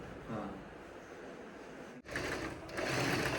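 A household sewing machine runs straight stitching, a close, steady mechanical whir with a rapid needle rhythm, which stops briefly near the middle and then starts again, running louder and faster.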